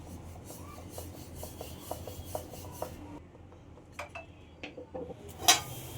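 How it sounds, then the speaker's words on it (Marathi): Bhakri flatbread dough is rolled out on a board, a quiet series of soft rhythmic rubbing and rolling strokes, followed by a few light clinks and taps of utensils, close with no talk. "भाकरी आपण आता लाटून घेत आहोत"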